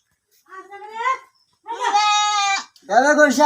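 A goat bleats three times up close, loud wavering cries with short pauses between, the middle one long and sustained.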